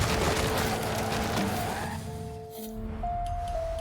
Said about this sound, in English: It sounds like a V12 or a V10.